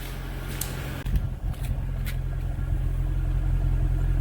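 Steady low rumble of a 2011 Mercedes-Benz E63 AMG engine idling, close and even, with a few brief clicks near the start and no talk.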